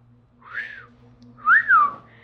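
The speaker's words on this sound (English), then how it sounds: "I tried to whistle, it just failed." A person tries to whistle, producing two short airy whistled notes, the second louder and sliding up then down, with a faint steady hum underneath and no speech.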